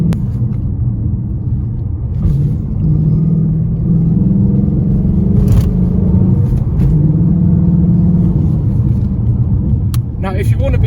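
A 2018 Ford Mustang GT with a 460-horsepower engine driving the rear wheels accelerates in third gear, a loud, steady rumbling drone rising gradually, with brief knocks and clicks over the top and no voices.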